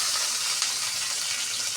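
Cumin, mustard seeds and red and green chillies frying in hot oil for a turnip curry, a steady, close sizzle and hiss with a faint crackle, no voices.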